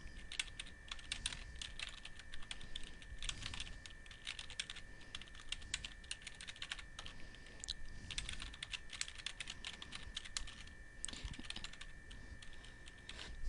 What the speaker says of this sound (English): you can at this point start typing company history